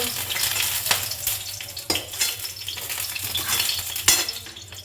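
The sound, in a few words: bitter gourd and stalks frying in oil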